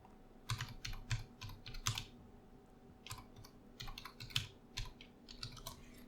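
Someone types on a computer keyboard while setting up a Laravel and Vue.js web app. Quick bursts of close, quiet key clicks come in irregular clusters, separated by short pauses.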